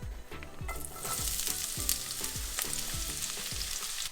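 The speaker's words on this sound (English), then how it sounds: "Once they start to go slightly red, then go ahead and add the onions." Onions fry in oil with fenugreek seeds for a spinach curry, making a loud continuous sizzle broken by regular low thuds and scrapes of stirring, repeating about every half second, close and with no voices.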